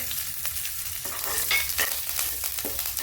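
Curry leaves and a little salt sizzle and crackle in hot tempering oil for spongy dhokla, a steady close frying hiss with sharper pops and faint stirring throughout.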